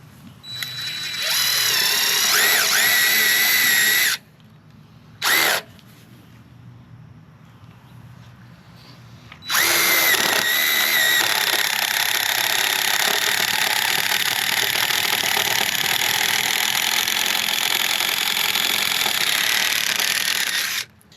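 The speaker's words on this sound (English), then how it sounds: "Let's just go ahead and drill our holes and see what happens." An impact-style wall drill bores holes for lag bolts on a farm, running close and loud in a long whining stretch, a brief blip, then a sustained run of over ten seconds, with no voices.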